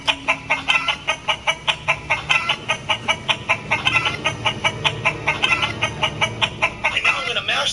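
Chickens cluck in rapid, steady bursts in the game Uncharted 3, loud and close, a busy rhythmic flock sound with a faint musical hum beneath.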